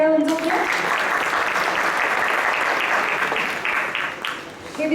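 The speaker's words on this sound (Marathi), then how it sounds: "तर त्यांच्यासाठी जोरदार टाळ्या उंचावूया." Loud, dense applause from an audience for student performers at a Marathi music concert, sustained clapping for several seconds that tapers off near the end, with a voice heard briefly at the start.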